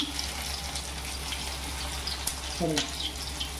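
Shepu (dill) vadi frying in hot oil in a home kitchen, a soft, steady sizzle and bubbling throughout, with a brief spatter burst near the end.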